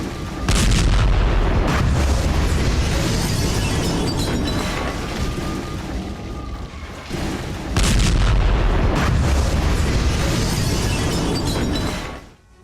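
Anti-tank missile fire and explosions during the Israel-Hamas war in Galilee, Israel: two long, heavy roaring bursts with rumbling booms, separated by a brief lull and fading at the end.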